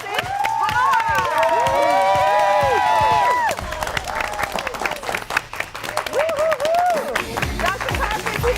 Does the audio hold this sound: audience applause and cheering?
yes